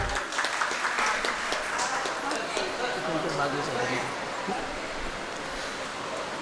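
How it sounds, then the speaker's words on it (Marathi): A crowd claps steadily in dense, continuous applause that holds for several seconds at a moderate level. "जोरदार टाळ्या वाजवा सर्वांनी."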